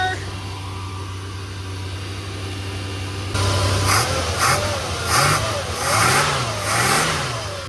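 A 1976 Dodge Coronet CHP police car with a 440 V8 idles in a low steady rumble, then revs in several swelling bursts that rise and fall, loud and close.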